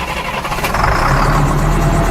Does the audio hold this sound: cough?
no